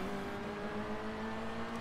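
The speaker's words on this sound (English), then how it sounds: "This car sounds nice." A race car engine in the Grid 2 racing game holds a steady, buzzing drone at fairly constant revs, loud and close, with no voices over it.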